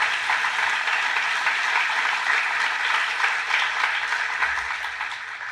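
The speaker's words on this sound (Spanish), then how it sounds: "Démosle un fuerte aplauso a nuestro Señor." Applause from a church congregation during a Spanish-language Christian sermon on the resurrection, a steady dense wash of clapping that holds at even loudness throughout with no talk over it.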